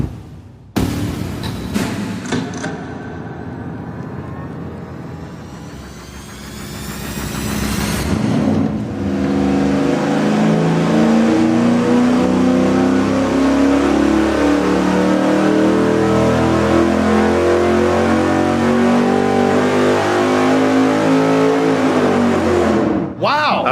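V8 engine with a 165 head and a Windsor intake manifold revving on a dyno; a loud, close engine note sweeps up, settles into a sustained high-rpm roar under people talking, then cuts off.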